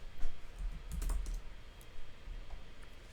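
Typing on a computer keyboard while playing MTG Arena, a short run of quiet, irregular key clicks close by with low background rumble.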